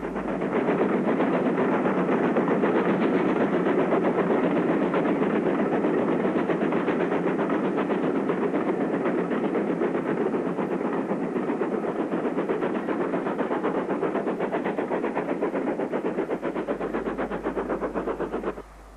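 GWR 2251 class 0-6-0 steam locomotive running southbound at Towyn Wharf on the Cambrian line, a loud, steady rumble and rapid chuffing that holds evenly for the whole stretch before cutting off near the end.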